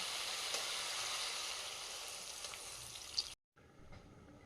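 Vegetables frying in a pan over an outdoor wood fire hiss in a dense, steady sizzle with no talk, then break off abruptly near the end before a quieter sizzle returns.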